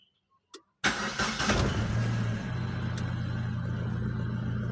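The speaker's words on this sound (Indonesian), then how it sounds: "Kita hidupkan ya dalam posisi netral." Automatic scooter engine started in neutral: a few faint clicks, then a sudden starter crank catching into an engine that revs briefly and settles into a steady close idle rumble, no talk.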